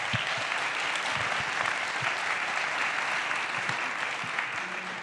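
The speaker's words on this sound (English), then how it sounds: "Round of applause." Steady audience applause at a Global Citizen panel on vaccine access, a dense wash of clapping held evenly for about five seconds with no voices over it.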